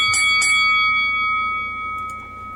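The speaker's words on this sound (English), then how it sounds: "we're going to start off with the first bell" A boxing ring bell is struck twice in quick succession to open round one, a bright metallic clang whose ringing tone lingers and slowly decays for a couple of seconds.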